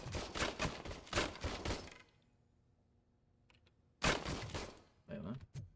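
An old gun in RoboCop: Rogue City fires in rapid, loud bursts of close gunshots, then falls quiet for about two seconds before another burst and a final short volley.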